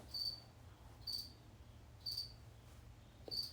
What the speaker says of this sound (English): are you enjoying the crickets in the background?